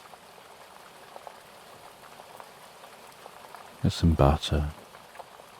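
Steady soft rainfall patters as a faint continuous backdrop throughout, while a voice speaks briefly partway through over the rain.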